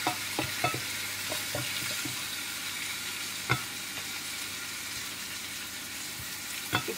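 Chicken pieces frying in a pan with a steady close sizzle, occasional scraping taps of a spatula stirring through, no voices.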